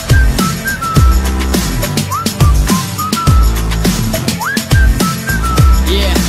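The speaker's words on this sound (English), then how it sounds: "so I whistled at her" Whistled melody in a song, bright sliding notes over a steady beat of punchy drums and bass, loud and upfront throughout.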